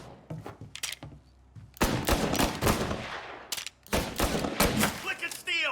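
Gunfire in the game Mafia Definitive Edition, with dense loud bursts of shots and rapid automatic volleys in clustered runs, broken by short pauses and mixed with shouted game dialogue.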